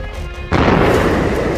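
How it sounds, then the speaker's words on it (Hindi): A single heavy explosion from an air strike on Tehran booms in abruptly after a quiet moment, then rolls on as a sustained loud rumble with no voices. "तेहरान की सुबह एक बार फिर धमाके की आवाज से कांप उठी।"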